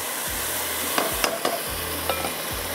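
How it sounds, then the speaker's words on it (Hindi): Meat fries over very high heat in a pan for a ladies' finger and meat curry, a continuous loud sizzle with repeated scraping and clunking strokes of a stirring spoon. "यहाँ पर भुना जा रहा है ये गोश्त।"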